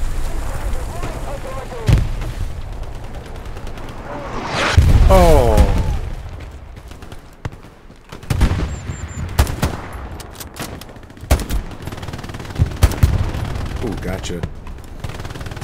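Hell Let Loose battle with loud booming artillery fire and sharp gunshots in irregular bursts, one long rumbling blast, and someone talking over the combat.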